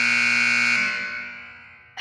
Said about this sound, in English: I'm turning off my buzzer